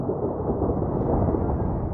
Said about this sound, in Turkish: Başarılı kalkıştan kısa süre sonra çakan yıldırım uçağın üstüne isabet etti.